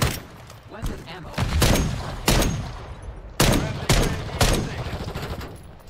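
A PS5 shooter game delivers a run of heavy, close gunshots, several irregular bursts with booming tails over six seconds, mixed with background game noise.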